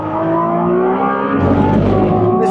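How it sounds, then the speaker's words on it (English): Ferrari F80 with an 8-speed gearbox accelerating hard on track, a loud, close engine note climbing in pitch, then a sharp shift around the midpoint with a sudden bang before the revs build again. "This 8-speed gearbox, just phenomenal. Just get that kick with each gear change. And a little bang, just like a sniper rifle going off."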